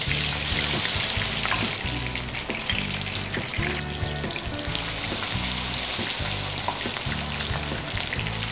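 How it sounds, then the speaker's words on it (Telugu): Fish rolls filled with mint and cheese, dipped in a light coating and deep frying in hot oil, give a steady, loud sizzle and crackle that runs unbroken throughout, with a low pulsing hum beneath and no voices. "సో నెక్స్ట్ ఫిష్ని దాంట్లో డిప్ చేసుకుని డీప్ ఫ్రై చేసుకుందాం."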